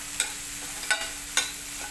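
Already-cooked samosa filling is sautéed in a pan, making a soft, steady sizzle under three quick spatula scrapes spaced about half a second apart, with no talk.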